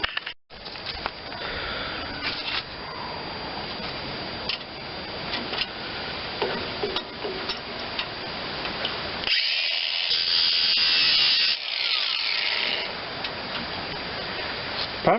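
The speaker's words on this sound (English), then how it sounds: "I'm just going to cut the chain link with a cutoff saw instead of trying to pry that open" A cutoff saw slices through a heavy metal chain link on a wood chipper repair, a sustained loud grinding whine with uneven bursts that sharpens into a brighter, harsher scream near the end as the blade bites.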